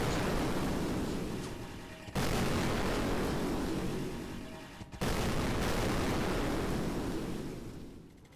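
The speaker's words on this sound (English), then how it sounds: "Here you can see the finished results where the gun is destroying all of the targets." Gunfire from a video game weapon destroying a field of targets, a dense, roaring barrage that runs continuously in loud bursts, broken by two brief near-silent cuts.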